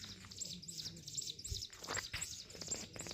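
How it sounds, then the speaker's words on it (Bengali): A bird calls on a quiet hillside road in Kasauli, Himachal Pradesh, with soft repeated chirps and tweets that sound somewhat distant over faint outdoor ambience. "পাখিটা কোথা থেকে ডাকছে,"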